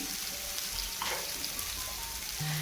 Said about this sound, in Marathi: उलटाण्याने हे मीठ सर्वत्र भेंडीला लागेल अशा पद्धतीने ही भेंडी तव्यामध्ये परतत राहायची आहे